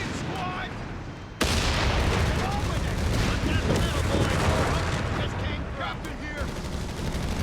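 Rifle and machine-gun fire from riflemen in the video game Company of Heroes 3 during a tournament match, a dense, continuous rattle of shots and booms that jumps louder after a moment and keeps going throughout.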